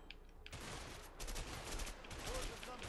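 Dense rapid gunfire from a video game, a continuous crackling burst of shots that is loud and sustained with little pause.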